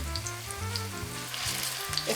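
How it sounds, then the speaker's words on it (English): Meatballs sizzle in a hot pan for gluten-free zucchini spaghetti and meatballs, a steady crackling fry close by, with faint tonal hum underneath. "You want to hear that little bit of sizzle."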